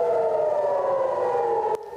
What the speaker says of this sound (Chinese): 以色列的空袭警报也再度响起。